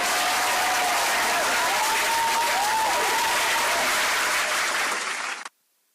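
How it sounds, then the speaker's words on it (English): Enthusiastic crowd applause closes an Arsenal v Cardiff City preview show: dense, sustained clapping at full loudness for about five seconds, then cutting off abruptly into silence. "round of applause for everybody involved"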